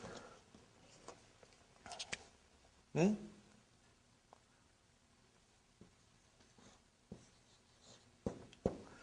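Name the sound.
writing on a board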